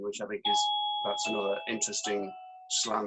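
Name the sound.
doorbell ringing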